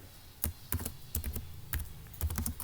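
Keystrokes on a computer keyboard while C code is entered, a quick irregular patter of close, crisp taps in short bursts with brief pauses, no voices.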